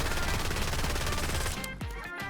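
A weapon firing uncontrolled in Black Ops 6, a loud, unbroken automatic burst that runs about a second and a half before stopping abruptly, leaving lighter game noise.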